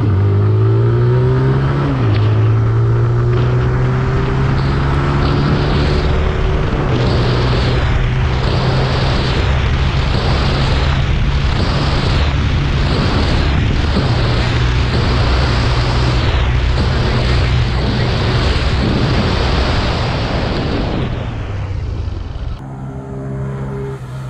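A low-displacement motorcycle accelerates hard through its gears on a wet road, with a loud, close engine rising in pitch and clear pauses at each upshift, reaching about 93 km/h before the throttle closes and the engine note fades under ABS braking.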